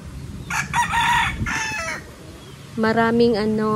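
Hens cluck and squawk nearby, then a rooster lets out a loud, close crow that rises and falls.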